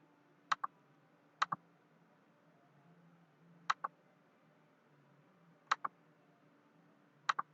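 Faint, crisp paired clicks from a computer mouse double-clicking in compressor simulation software recur five times at irregular intervals over a quiet hum, with no talking.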